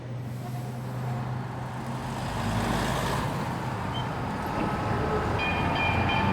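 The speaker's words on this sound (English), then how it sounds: "you can hear the trains going by now." A train rumbles past the Montreal rail yards in a steady, continuous roar of wheels and railcars that grows slightly louder, heard outdoors with street traffic around it.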